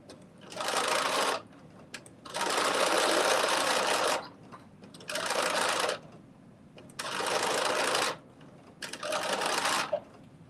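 A home sewing machine runs a long basting stitch along lined-up raw edges while sewing McCall's 8142. Five steady whirring bursts of a few seconds each are separated by short pauses, close and clear, with no voices.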